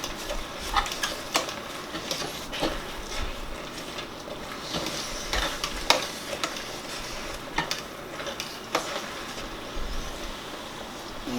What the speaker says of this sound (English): Make sure your heat's low. I'm just stirring around here.